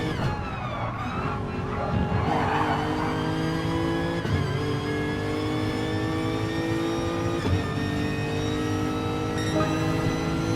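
GT4 race car engine in a sim racing game at the Red Bull Ring, a loud sustained whine with shifting pitch as the car slides sideways, brief dips where the revs change, other cars faintly behind, no talk.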